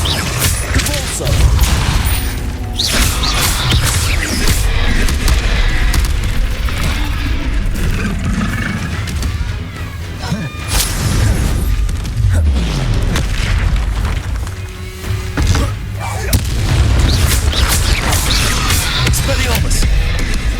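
A Convulso spell goes off in Hogwarts Legacy during a duel with a troll, one of a dense run of loud booming blasts, crashes and magical bursts with thudding impacts, all continuous and close.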